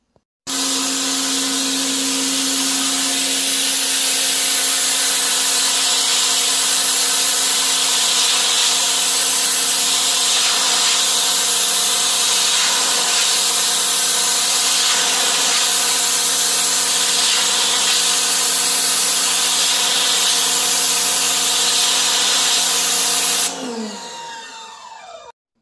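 A Stihl RE 90 electric pressure washer runs with its regular nozzle, a loud, steady motor whine with a hissing water jet held for over twenty seconds before it winds down at the end, with no voices.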